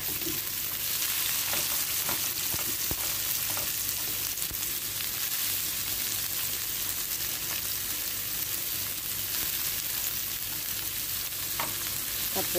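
Onions sautéing in a frying pan while preparing creamy shrimp, giving a steady, close sizzle throughout with light stirring scrapes and clicks mixed in.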